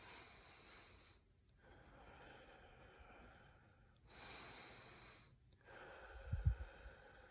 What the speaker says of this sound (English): I do my breathing in through the nose,